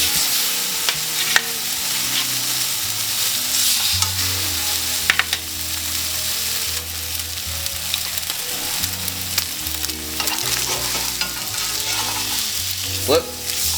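Steaks sear in hot oil in a pan with a steady, loud sizzle and crackle, occasional sharper pops and scraping as the meat is moved, with no talking.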